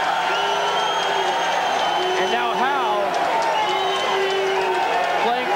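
A boxing crowd applauds and cheers as the fighter Howe plays to them, with sustained loud crowd noise, whoops and rising shouts throughout, and a voice speaking briefly over it.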